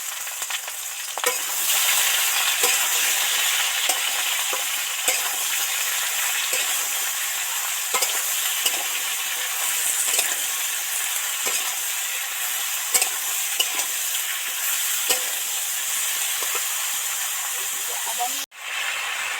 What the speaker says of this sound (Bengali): সবজিগুলো তো ভাজা হয়ে গেছে